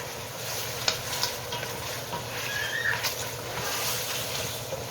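Mutton karahi with ginger and garlic being stirred in a pan, a steady close sizzle with soft scraping stirs running throughout.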